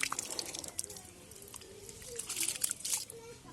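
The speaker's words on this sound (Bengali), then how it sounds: "এখন আবার একটু ধুয়ে নিই।" Something is rinsed in water, with close, quiet splashes, drips and sloshing in short irregular bursts. A soft voice murmurs faintly underneath.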